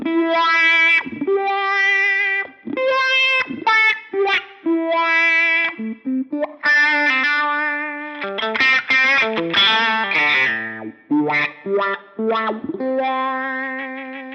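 Line 6 Helix guitar processor with a colorful wah pedal effect: distorted electric guitar phrases with a sweeping, vocal-like filter, sustained notes and bursts of chords, loud and continuous with no talking.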